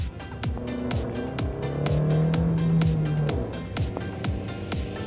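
A Chevrolet Beat's small car engine labors steadily uphill, a low droning hum with rising and falling pitch, close and continuous, with faint clicking ticks throughout.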